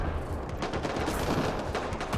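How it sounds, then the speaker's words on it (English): Gunfire crackles through a video game battle as a dense, continuous volley of rapid shots and bursts, fairly loud and heard without talk. "I don't know who's shooting at what"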